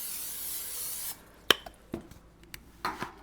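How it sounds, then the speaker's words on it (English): A can of cooking spray hisses steadily into a 9x13 casserole dish for about a second, followed by a few light clicks and taps of the can and dish in a quiet kitchen. "We're gonna spray it really good."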